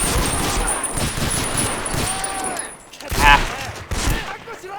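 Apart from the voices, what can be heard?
machine gun fire in Medal of Honor Rising Sun video game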